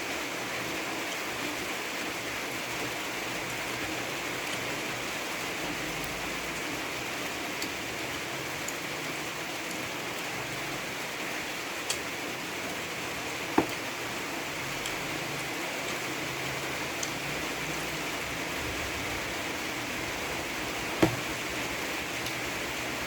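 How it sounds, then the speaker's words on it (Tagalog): Heavy rain falls as a steady, even hiss over a long stretch, with a few faint scattered ticks and taps and no voices. "Malakas ang ulan ah."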